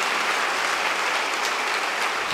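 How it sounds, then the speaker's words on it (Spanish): A church congregation claps loudly and steadily throughout a Sunday Mass, a dense continuous applause with no voices over it. "Ahora un aplauso para nuestra madre."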